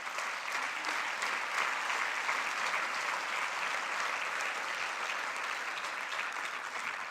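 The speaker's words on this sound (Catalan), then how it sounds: "un aplaudiment per als guardonats" An audience at an awards ceremony gives sustained, even applause for the honorees, a dense wash of clapping that holds steady from start to finish with no talking over it.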